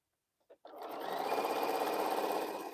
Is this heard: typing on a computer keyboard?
no